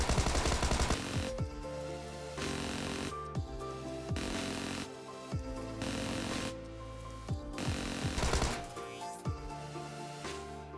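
Tommy gun firing in PUBG, repeated bursts of rapid automatic fire with short gaps between them, loud and close, no talking.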